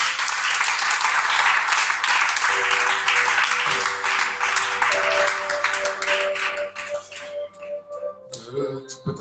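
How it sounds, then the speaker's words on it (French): A church congregation applauds for the Lord Jesus: dense, loud clapping fills the first seven seconds, then thins out as sustained music tones rise and take over. "Acclame le Seigneur Jésus."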